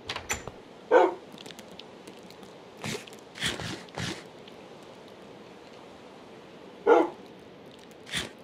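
Dog barks from the Minecraft video game, a few short separate woofs spread apart at moderate loudness over a faint rainy background hiss.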